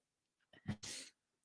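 One short, quiet sneeze, a brief sharp catch of breath followed by a hissing burst, close to the microphone in an otherwise silent room.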